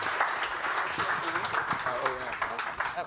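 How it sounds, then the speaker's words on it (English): An audience applauds at a summit of PechaKucha presentations, with steady, dense clapping lasting throughout and voices faintly audible underneath. "One last round of applause for this incredible group."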